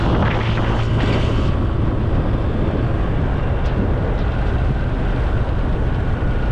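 Strong, cold wind buffets the microphone in a constant, loud roar with low rumbling gusts and no voices.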